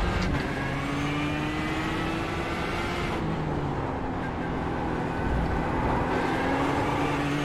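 A GTE race car engine in the iRacing sim drones steadily with gear-shift steps and shifting revs, a continuous loud mechanical hum carrying through the whole stretch without speech.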